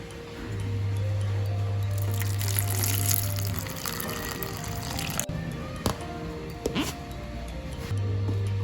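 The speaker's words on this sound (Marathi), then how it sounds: "इथं आता आपल्याला याच्यामध्ये थोडस पाणी घालून पुन्हा एकदा हे मिक्सरला फिरवून घ्यायचं आहे" A mixer grinder whirs steadily while blending coconut chutney with a little added water for instant idli. The motor hum runs loud for a few seconds, stops with some clatter, then starts again.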